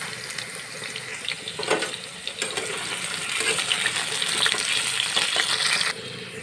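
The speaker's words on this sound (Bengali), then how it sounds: "তা আমি আলুটাকে ভেজে নেব" Potatoes fry in a pan with a little turmeric, giving a steady, fairly loud hiss with bursts of crackle and scraping stirs that run throughout and drop off in the last half second.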